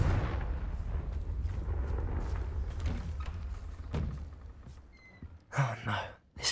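A Confringo blasting spell goes off in Hogwarts Legacy, with a deep rumbling blast followed by crackling impact bursts, then a couple of sharp bright flares.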